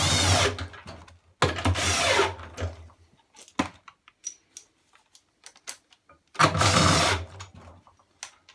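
A power tool tightens bolts during a bearing replacement on a Bosch washing machine, with three loud, sharp whirring bursts and quieter clicks and handling knocks between them.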